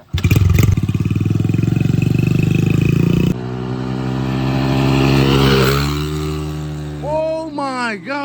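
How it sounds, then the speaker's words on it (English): A Honda CRF100 dirt bike fitted with a nitrous kit screams at full throttle, its engine note loud and rising in pitch through the gear, then easing off as voices shout excitedly near the end. "I'm gonna go 5th gear or 4th gear, go pretty fast, full throttle"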